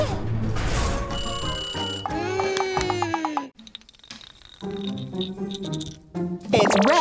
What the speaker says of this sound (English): Oh no! An alarm goes off!